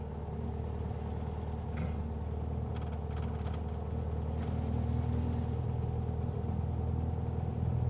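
A custom 1966 Volkswagen Beetle pulls away from a showroom carousel, its engine giving a steady, close, low drone throughout.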